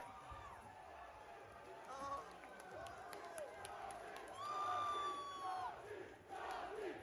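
Crowd at the Tekken World Tour Finals cheering and chanting for a player, a dense roar of many voices swelling louder midway, with shouts rising above the steady din throughout.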